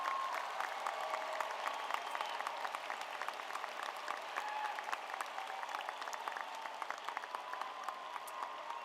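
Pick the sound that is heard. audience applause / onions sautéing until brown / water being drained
audience applause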